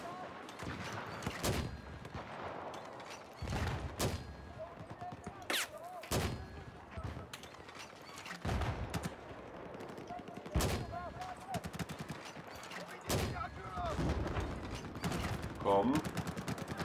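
Gunfire crackles through a Battlefield 4 Team Deathmatch match on Operation Locker, sharp single shots and short bursts repeating irregularly, with mechanical weapon clicks in between and occasional game sounds underneath.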